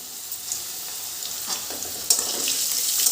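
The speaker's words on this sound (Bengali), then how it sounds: "আলুগুলো এবার আমি লাল লাল করে ভেজে নেব" Potatoes frying in oil with salt and turmeric give a bright steady sizzle, quiet at first and then swelling louder after a sudden crackle midway, close to the pan.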